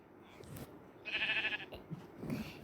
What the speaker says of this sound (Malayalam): ഇതാ നമ്മളെ വേഗത്തിൽ തന്നെ ആട് വരുന്നുണ്ട്.